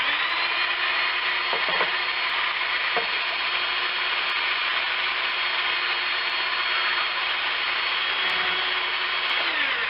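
A power drill mixing pottery glaze in water whirs continuously at high speed, a loud steady whine with a slight wet churning texture throughout.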